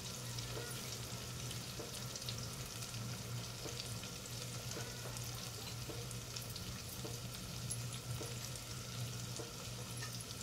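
A spiced stuffing mixture fries in a pan with a continuous, even sizzle and crackle, plus faint occasional scraping, close up at moderate loudness throughout.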